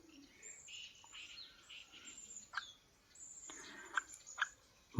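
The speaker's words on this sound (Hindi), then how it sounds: "ये है ग्रे हेडेड वुडपीकर।" A grey-headed woodpecker chirps while being fed by hand, giving a string of thin high calls and tweets with brief pauses and a sharp close sound at the very end, no talking.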